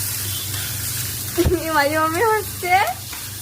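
Onion, curry leaves and chillies fry in oil on a tawa, giving a soft, steady sizzle. Someone speaks briefly over the crackle.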